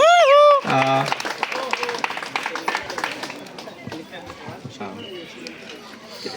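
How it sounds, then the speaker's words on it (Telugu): An audience claps at a business presentation event, a steady patter of many hands following a brief sung phrase, fading slightly over the stretch while people talk underneath. "ఈ చప్పట్లు సరిపో, చప్పట్లు సరిపోదు మీకు"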